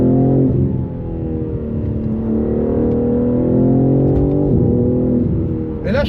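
A BMW six-cylinder engine accelerates hard, its tone climbing steadily in pitch, loud and close from inside the car for several seconds.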